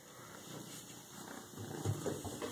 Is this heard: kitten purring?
yes